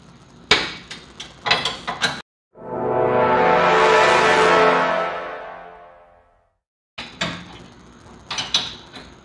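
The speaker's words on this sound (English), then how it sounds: "when you spin a bolt from the backside" Wrench spinning a bolt on a rear air bag cross-member of a 2000 OBS dually truck, one sustained whirring run of about four seconds that swells and fades, framed by sharp clanks and knocks of work before and after.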